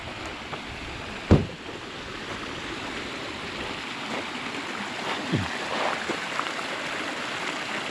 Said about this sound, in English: This little runoff just off the side of the road